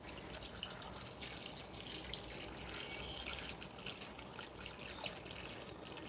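Cooled boiled water is poured into a bowl as a steady, faint trickling stream that continues throughout, with no voices.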